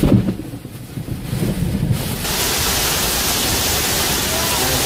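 Storm winds of over 200 km/h batter a shaking car in Istanbul's Silivri district, giving a loud, continuous roar of wind and buffeting that swells and then holds steady.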